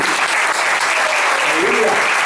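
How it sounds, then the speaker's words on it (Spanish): A congregation at a special church service claps for a man introduced to the crowd, dense sustained applause with voices mixed in. "Un aplauso a Franklin"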